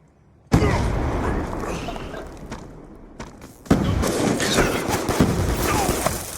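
Concussion grenade going off in the Black Ops 2 multiplayer shooter: a sudden loud broadband blast, then sustained rumbling noise, followed by a second heavy burst with more crackling gunfire-like pops continuing afterward.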